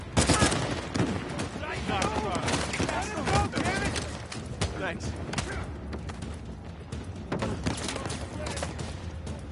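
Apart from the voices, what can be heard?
gunfire in the video game Uncharted 4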